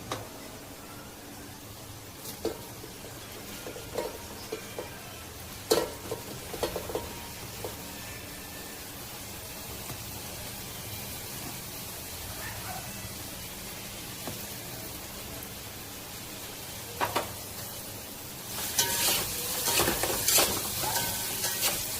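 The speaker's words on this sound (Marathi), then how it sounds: "सोनेरी कलर येईपर्यंत हा कांदा चांगला परतून घ्यायचा आहे" Finely chopped onion sautéing in a pan after garlic-ginger paste, a soft steady sizzle with intermittent spatula scrapes and clinks, fairly quiet, with a louder burst of stirring near the end and no voices.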